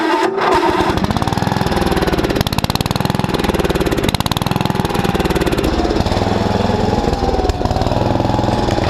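Old engine on a Fieldking hammermill setup running loud and steady at close range, with a pulsing, uneven idle surge and heavy mechanical knocking throughout, no voices.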